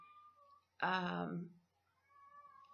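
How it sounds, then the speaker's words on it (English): A cat lets out one loud, drawn-out meow, with quieter speech before and after it. "you're going to hear my cat in the back. She's playing."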